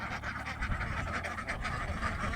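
Several ducks quack in a busy, overlapping chatter at moderate distance. The calls continue without a break.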